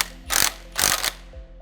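Ratchet cranking on the bolts of a FOX ATS direct-fit steering stabilizer on an Ineos Grenadier, using 18 mm and 21 mm sockets: two close, loud bursts of rapid clicking pawl strokes separated by a short pause.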